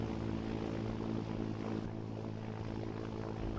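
Propeller engine of an S2T airtanker plane in the video game Firestorm, a loud, steady droning hum that holds constant throughout.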